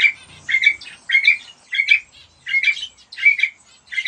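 A pet quail calls loudly and repeatedly at close range, sharp squawking bursts coming in a steady rhythm about every half second, with no other sound.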